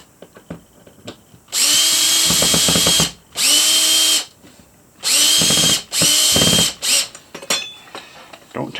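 A power drill fitted with a Phillips number 2 bit drives a screw in four separate loud, whirring bursts, each with a ratcheting clutch clatter, separated by short pauses with small handling clicks.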